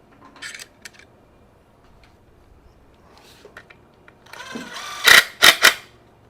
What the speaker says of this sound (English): Just tighten these up, 17 millimeter wrench.